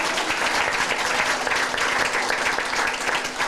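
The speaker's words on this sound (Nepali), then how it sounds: "हामी सबैजनाले ताली बजाउनेछौँ।" Applause from a church conference congregation at a fasting prayer and healing gathering, dense steady clapping from many hands, loud and sustained throughout without a break.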